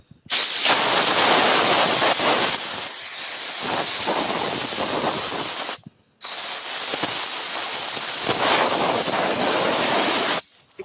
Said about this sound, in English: I blow air into the edges of the block.